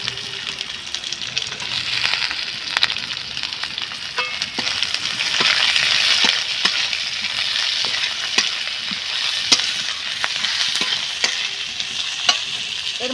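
Garlic paste and chopped onion sizzling in hot oil, a loud continuous frying hiss with frequent clicks of stirring throughout, and no talking.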